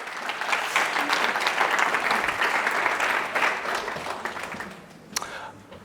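An audience at an evening talk on hypnosis applauds in a full, sustained burst of many hands that gradually thins and fades, with a few louder claps near the end.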